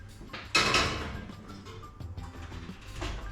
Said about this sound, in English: Let's bung it in the oven.